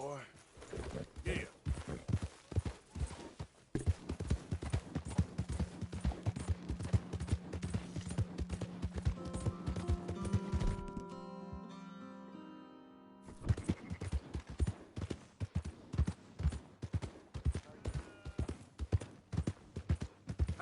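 Rhythmic horse hoofbeats in Red Dead clip-clop steadily at a trot, joined midway by a sustained musical tone, then the hooves resume alone.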